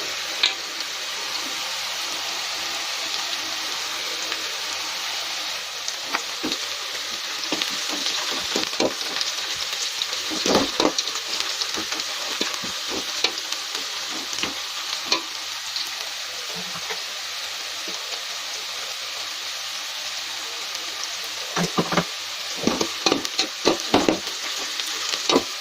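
Onions and whole spices for chicken biryani sizzle steadily in hot oil in a pan, a constant crackling hiss broken by scattered louder scrapes and clinks of stirring that bunch up near the end.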